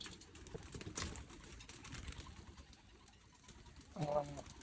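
Domestic pigeons cooing softly in a loft, with low murmuring coos scattered through the clip and a clearer, louder coo near the end.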